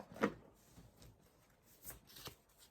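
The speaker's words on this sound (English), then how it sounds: "Let's shuffle these oracle cards." Oracle cards being shuffled by hand, a quick riffle burst followed by softer sliding and tapping of the deck, close and unaccompanied by talk.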